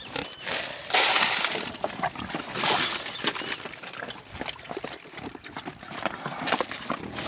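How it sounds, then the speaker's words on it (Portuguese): A free-range farm pig crunches dry corn kernels from a sorghum and corn feed mix, with irregular close-up cracking and crunching bursts that rise and fall over a steady outdoor background. "Olha os estraladinhos dela com o meu milho, ó."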